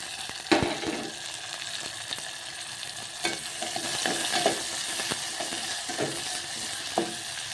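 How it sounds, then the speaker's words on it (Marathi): Onion, chilli and tomato sizzle steadily in a pan for upma, a continuous frying hiss broken by several sharp taps and scrapes of a stirring spoon. "कांदा आणि मिरची थोडे आरत कच्ची भाजून इथं टाकत आहे मी टमाटा अर्ध कट करून घेतलेलं"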